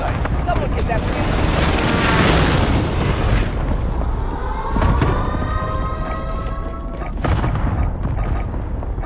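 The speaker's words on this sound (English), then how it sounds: "Allied precision airstrike incoming" Allied precision airstrike in Call of Duty: Modern Warfare: several heavy booming explosions land in succession with whistling, ringing debris and a siren-like whine between blasts, loud and close throughout.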